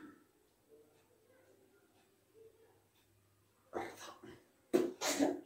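Near the end, after a quiet stretch with faint background sound, a person nearby sneezes in two loud, explosive bursts, the second sharper and louder than the first.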